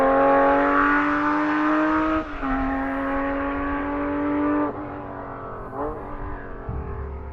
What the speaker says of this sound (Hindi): एक पुरानी एसयूवी गाड़ी तेज रफ्तार में एक सुनसान रास्ते पर दौड़